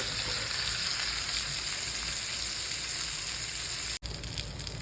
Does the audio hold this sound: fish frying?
yes